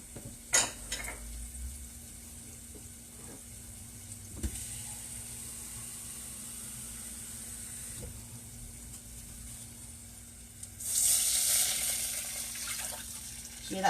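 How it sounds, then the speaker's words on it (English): A quiet kitchen with a few clinks, then a louder burst of hissing sizzle from garlic in a hot pan on high heat near the end. "Hear that sizzle?"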